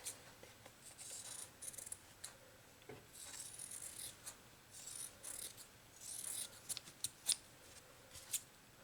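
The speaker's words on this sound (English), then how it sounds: "And for the mat board, I just use scissors." Quiet snipping and rubbing of scissors cutting through stiff mat board, a series of short crisp cuts with brief pauses, close and soft.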